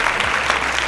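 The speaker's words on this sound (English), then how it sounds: "I'm gonna give this kid an applause, and this time it's a real one" Applause from a crowd, a steady wash of clapping that runs unbroken through a brief moment, fairly loud with no voices over it.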